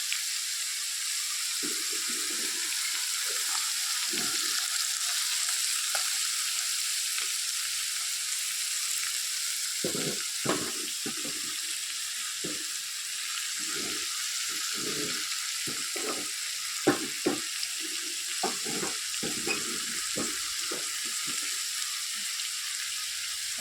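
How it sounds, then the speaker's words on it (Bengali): Fish sizzles steadily in hot oil in a wok, a continuous high frying hiss with scattered clinks and stirring knocks from the pan, no talking. "এবার মাছটা যখন একটু ভাজি হয়ে যাবে"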